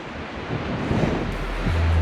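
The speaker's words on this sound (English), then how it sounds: "it also has gotten windy and a little bit more chilly." Steady, blustery wind roars against the microphone on a snowy mountain trail in Estes Park, Colorado, growing stronger toward the end, with no voices.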